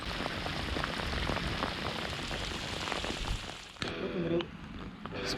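Steady rain patters on a surface outdoors by the Dnipro river before an evening pike-perch fishing session, a dense continuous hiss that stays loud throughout, with a brief clattering disturbance near the end.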